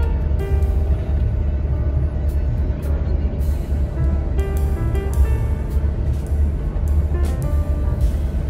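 A long-distance intercity bus cruises on the Trans Java toll road, its low engine rumble and road noise steady throughout, with occasional rattles and brief higher hisses from inside the cabin.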